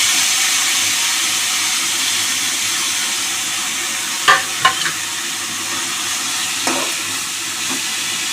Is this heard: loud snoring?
no